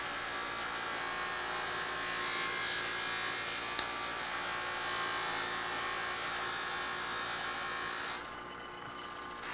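Steady high-pitched whir of a buffing wheel polishing chrome on a motorcycle under restoration, running continuously and close, easing slightly near the end.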